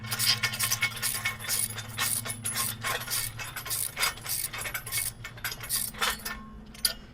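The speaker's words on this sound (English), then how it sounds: "you just kind of got to get the wrench in there like that" A wrench tightens the mounting bolt of a rear lawn dethatcher, producing a steady run of close ratcheting clicks and metallic rubbing over a low hum.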